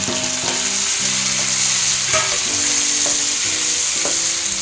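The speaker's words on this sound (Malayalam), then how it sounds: "ഇനി നമുക്ക് നമ്മുടെ ടൊമാറ്റോനെ ഇതിനകത്തോട്ട് ഇട്ട് കൊടുക്കാം." Tomato goes into a pan of frying onions for a coriander chicken curry, bringing a loud, steady sizzle with regular spoon taps and scrapes against the pan.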